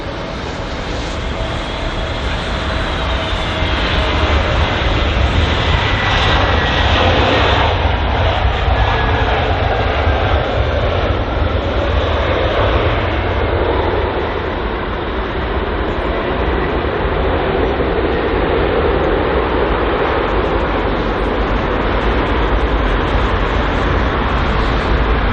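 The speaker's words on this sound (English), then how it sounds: "A320neo, operated by British Airways, arriving from Rome on its 2-hour and 6-minute long flight." A British Airways Airbus A320neo landing at London Heathrow on arrival from Rome, its engines roaring loud and steady for the whole stretch. The dense broadband rumble swells slightly mid-way and holds without pause.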